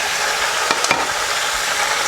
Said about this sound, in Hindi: तो हाई फ्लेम पर इसको गोश्त को इसमें थोड़ा सा फ्राई कर लें